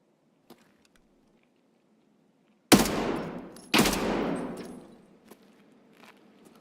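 An armoured BTR vehicle in the shooter Escape From Tarkov fires two heavy, loud blasts about a second apart, each trailing off in a long rumbling echo across an otherwise quiet scene with a faint earlier pop.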